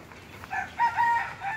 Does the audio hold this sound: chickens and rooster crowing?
yes